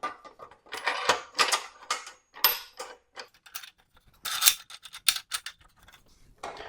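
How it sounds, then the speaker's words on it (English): A clamp slid outward on a dual-miter metal-cutting chop saw, giving a quick series of light metallic clicks, ticks and scrapes in short bursts, close by and fairly quiet. "I'll move my clamp out"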